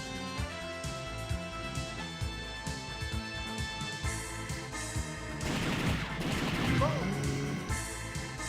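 Gunfire from the arcade light-gun game The House of the Dead 2, steady bursts of shots over game music with a louder, denser flurry near the end.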